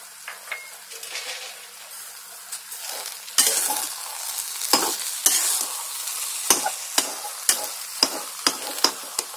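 Sheera stirred in a pan with sugar, cardamom powder and dry fruits, a soft sizzle under repeated sharp spoon scrapes that fall into a regular rhythm toward the end, close and fairly quiet.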